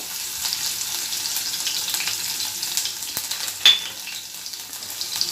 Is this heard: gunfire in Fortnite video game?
no